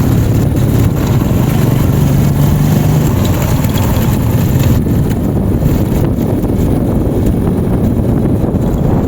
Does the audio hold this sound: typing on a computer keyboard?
no